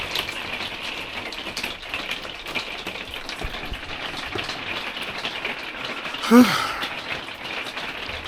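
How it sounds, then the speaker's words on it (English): Heavy rain pours down steadily at a campsite, a dense, continuous hiss of drops drumming on surfaces, with one brief, sharper sound standing out near the end. "I just woke up because the rain is so loud"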